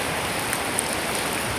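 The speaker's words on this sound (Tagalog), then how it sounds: "May kaso, lakas ng ulan." Heavy rain pours down steadily near a goose pen on a farm, a dense, even hiss that fills the whole moment with no pauses and no voices.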